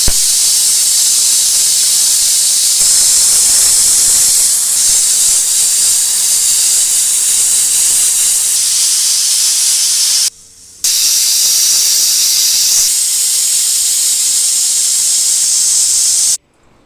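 A pressure cooker of dried peas in salted water lets off a loud, continuous steam hiss that holds steady for about ten seconds, cuts out briefly, then carries on just as strongly before stopping abruptly.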